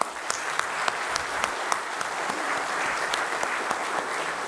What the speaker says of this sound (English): give us a please large applaud for his lecture